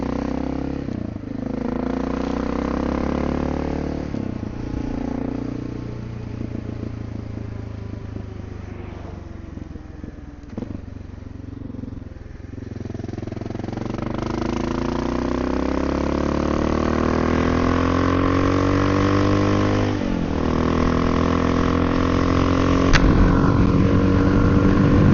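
A Honda XR650L single-cylinder motorcycle accelerates onto a highway, its engine note climbing through several gear changes with pauses between shifts, then holding a loud, steady drone with wind rush; no talking.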